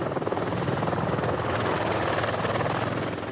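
A V-22 tiltrotor aircraft hovers close by, its rotors making a loud, continuous pulsing thump with a dense roar, no voices present.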